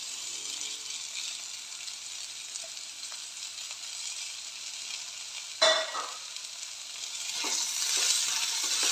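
Mushrooms frying with onions in a pan, a steady close sizzle with a brief clatter of stirring partway through and the hiss swelling toward the end.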